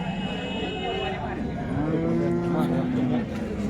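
A cow lets out long, drawn-out moos close by at the crowded Sangola cattle market, with overlapping lowing from other cattle and a busy murmur of voices behind.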